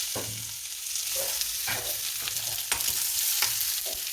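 Onion and mustard seeds fry in hot oil in a pan, a soft steady sizzle broken by repeated stirring scrapes and clinks at an uneven rhythm, close and fairly quiet with no talk.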